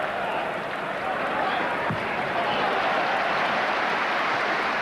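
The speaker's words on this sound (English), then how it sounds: "Deserved applause for some excellent defending from young Matteo." Sustained applause from a large stadium crowd at a 1996-97 Premier League match between Liverpool and Arsenal, dense and steady, with a broad roar of clapping and cheering filling the whole stretch.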